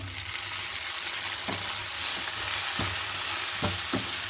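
Sliced sausage fries in a pan with onions and salt, a continuous close hissing sizzle punctuated by several brief scraping stirs.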